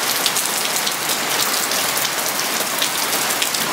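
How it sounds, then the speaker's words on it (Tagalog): Heavy rain pours down steadily in a dense, loud hiss with no pauses or voices. "Ang lakas ng ulan."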